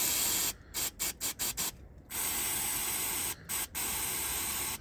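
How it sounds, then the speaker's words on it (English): Aerosol brake cleaner sprayed onto the front brake assembly of a Vauxhall/Opel Astra G during a pad replacement: a long steady hiss, broken by several short sharp cut-offs and bursts as the nozzle is pressed and released. "Need some cleaner now, and I'll just spray right here."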